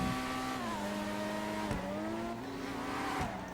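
A high-revving supercar engine in GTA 5 screams and climbs through the gears, with two sharp shifts breaking the rising whine, loud and continuous.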